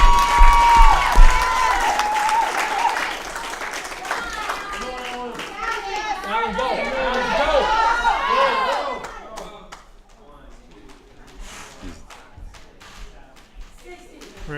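Spectators at an IKB Games 2013 fitness competition cheer and clap for an athlete mid-event, a busy mix of shouts, applause and children's voices that stays loud before thinning out toward the end.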